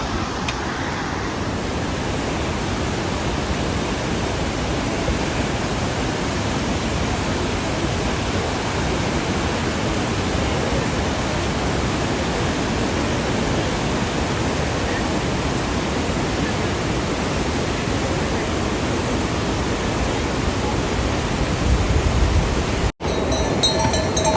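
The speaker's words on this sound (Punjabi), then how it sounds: "ਸਾਡੇ ਪਿੱਛੇ ਝਰਨਾ ਤੁਸੀਂ ਦੇਖ ਸਕਦੇ ਹੋ" A waterfall along the Hemkund Sahib trek pours in a dense, unbroken roar of rushing water that holds steady throughout, loud and close, with no voices rising above it.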